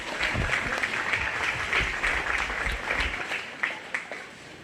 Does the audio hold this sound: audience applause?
yes